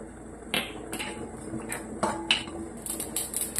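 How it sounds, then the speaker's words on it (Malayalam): A quarter spoon of small cumin seeds roasting dry in a pan pops and crackles in sharp, irregular little bursts, with faint clinks between them and no voices. "ജീരകം ഇത് നല്ലപോലെ പൊട്ടി വരുന്നുണ്ട്."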